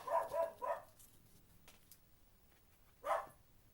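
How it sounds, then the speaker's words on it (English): A dog barks at a neighbor indoors, giving a quick cluster of three moderately close barks, then a pause and one more bark, with no talking. "Apologies for my dog barking at the neighbor."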